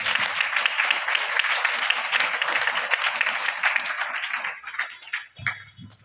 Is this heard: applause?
yes